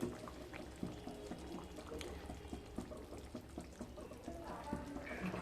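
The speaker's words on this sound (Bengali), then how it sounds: "আর দিয়ে দেব সর্ষের তেল" Mustard oil poured over a simmering parshe fish curry in a pan, a soft continuous liquid trickle and pour over low kitchen bubbling.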